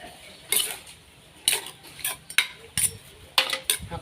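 Serving utensils clink and scrape against dishes as Thai fish dip is scooped onto a plate, a few close, sharp metallic knocks spaced out over a quiet kitchen background.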